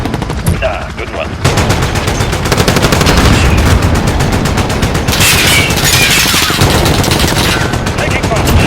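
Sustained automatic gunfire in Call of Duty Warzone, a PKM machine gun loadout, with rapid continuous bursts and booming shots that fill the scene loudly, alongside game voice callouts.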